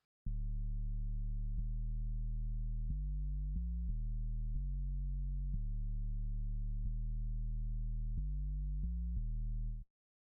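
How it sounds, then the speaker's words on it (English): A low-pass-filtered sub bass line for a trap beat, made in Logic Pro X, plays a sequence of deep, smooth, sustained notes that change pitch in a repeating pattern, then fades out quickly at the end. "This is what the sub bass sounds like."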